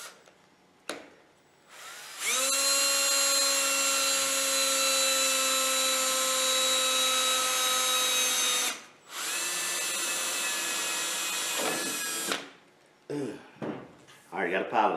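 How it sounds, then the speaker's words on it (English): A power drill whines at a high, steady pitch for several seconds while drilling a pilot hole in metal, pauses briefly, then spins up again before stopping; a little clatter follows. "I've already done a test run on another piece of metal with this drill"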